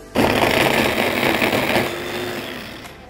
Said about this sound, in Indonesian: Lalu kita haluskan bumbunya.